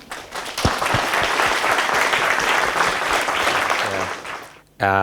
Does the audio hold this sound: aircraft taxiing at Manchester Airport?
no